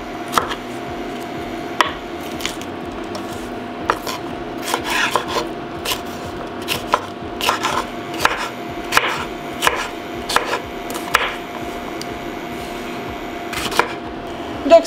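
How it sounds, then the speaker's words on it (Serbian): Knife chopping 2 kg of washed, deseeded peppers into cubes on a board, with a steady series of sharp, close chops and scraping strokes and no talking. "Ovako, i tako ćemo iseći svu papriku."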